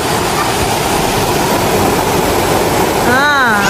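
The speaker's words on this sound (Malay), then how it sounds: "Ini sungai depan kita orang." Steady broadband rush of a river flowing in front of a campsite at Lubuk Petai near Tanjung Malim, continuous and close, with a brief faint whistling tone near the end.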